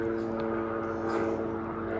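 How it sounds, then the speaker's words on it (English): A helicopter flies over a jungle in Maui, heard as a steady, continuous droning engine and rotor hum that stays fairly loud and even for the whole stretch. "It's actually a helicopter."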